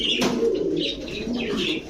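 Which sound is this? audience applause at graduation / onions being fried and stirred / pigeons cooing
pigeons cooing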